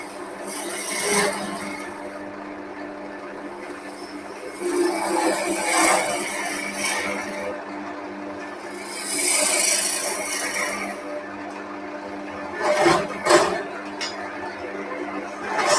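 Wood turning on a lathe without tailstock support, a gouge cutting away bulk material: a steady rasping, scraping drone with swells as the tool works along the piece, and no talk.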